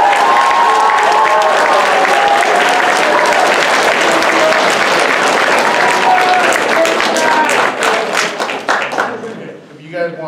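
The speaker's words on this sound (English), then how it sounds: "So let's give them a round of applause." A dense, loud burst of sustained audience clapping and cheering fills a school awards night hall. It holds steady before thinning out and fading toward the end, with voices mixed in.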